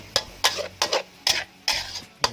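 Beef is stir-fried and broken apart in a pan, with a spatula scraping and knocking in steady strokes about every half second over a soft sizzle, close and loud, no talking.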